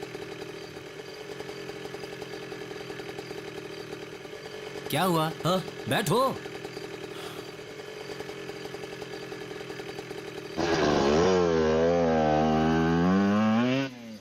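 A motorbike engine idles under conversation at first. It then revs up loudly and rises in pitch near the end.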